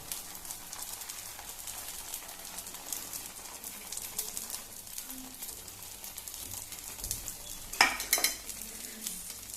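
Salt is stirred into an egg mixture for pole, giving soft, quiet repeated scraping and mixing sounds with a faint sizzle underneath and a brief louder clink near the end, no voices.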